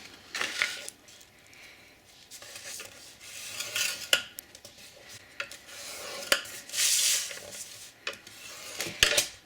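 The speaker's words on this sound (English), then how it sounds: "you are going to score both of those at 1 inch on all 4 sides" Paper board being scored with a tool at one-inch marks on all four sides for a mini album box lid, heard as short, dry rasping and rubbing strokes in irregular bursts, close and fairly quiet, with no talking.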